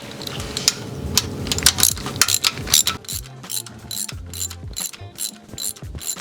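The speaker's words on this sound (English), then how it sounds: "once you've threaded in all the bolts into the oil pan loosely by hand, you can start going around tightening them" A hand ratchet snugs down oil pan bolts on a Nissan RB26 engine, rapid loud clicking bursts in short strokes with pauses and small metallic clinks between, close up.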